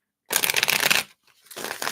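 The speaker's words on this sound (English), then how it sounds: "I'm just gonna shuffle these up a little bit here." Tarot cards shuffled by hand at a live reading, two close, crisp bursts of riffling, the first longer and louder, a short pause between them.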